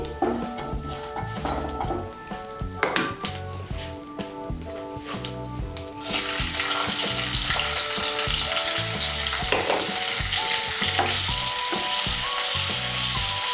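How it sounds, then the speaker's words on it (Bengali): Chopped onion from a medium-sized onion fries in a pan for a soyabean and brinjal dish. Spoon scrapes and stirring come first, then a loud, even sizzle takes over and holds steady close by, with no voices. "পেঁয়াজ কুচিটাকে আমি লাল করে ভেজে নেব।"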